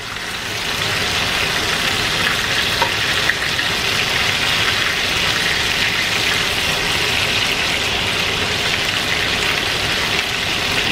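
Bourbon-style chicken pieces fry in a pan with a steady, loud, continuous sizzle that holds evenly from start to finish, with no voices.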